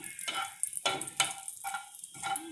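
Bay leaf, a half-inch of cinnamon and half a spoon of cumin sizzle in hot oil, making several short close bursts of crackling frying that flare and fade in a quick rhythm, with no talking.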